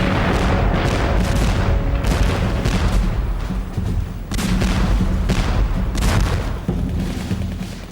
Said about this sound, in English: The invasion began with an offshore artillery bombardment.